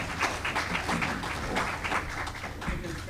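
An audience applauds a panel at an event, a continuous wash of many hands clapping at moderate distance, fairly soft and even throughout.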